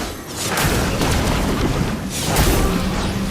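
A flaming sword attack in the video game Expedition 33 bursts into a loud, booming, fiery explosion, rumbling and crackling in several surges over a few seconds.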